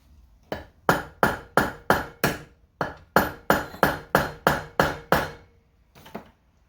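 A hammer taps sharply on a broken exhaust manifold bolt stuck in an LS cylinder head. About a dozen close, ringing metallic strikes come in a quick, regular rhythm, then a short pause and one last softer hit.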